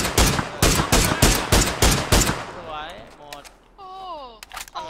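Rapid bursts of automatic gunfire in the battle royale game PUBG, loud and close for about two and a half seconds, then giving way to quieter game sounds and fragments of voice chat.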